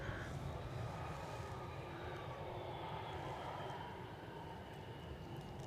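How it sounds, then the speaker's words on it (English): An Embraer 175 airliner departs Edinburgh airport, its steady jet roar held at an even, fairly distant level throughout, broad and continuous with no gaps. "Looks like a nice little Embraer 175 unless I'm much mistaken."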